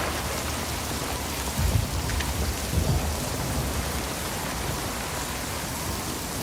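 Heavy steady rain pours over humble mud houses during a storm, with two low rumbles of thunder rolling under the constant hiss of the downpour.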